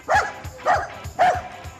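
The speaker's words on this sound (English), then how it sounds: "Half the time he's just barking at something" A small dachshund barks three times in an even rhythm, sharp and fairly close, with short pauses between barks and no talking.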